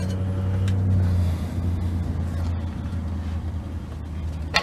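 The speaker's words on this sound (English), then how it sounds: "I can't believe how many people are out driving around." Traffic rumbles steadily outside on a busy Sunday, a low continuous engine drone with cars passing at moderate distance, swelling slightly at first and then holding even.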